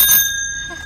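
Bell on a child's new bicycle rung once, a bright metallic ding that rings out loudly at first and then decays over less than a second, with no talking.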